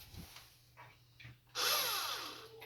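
After some faint handling clatter, a power drill whirs up suddenly and runs steadily for about a second, close by, drilling a hole to install a hand towel hanger.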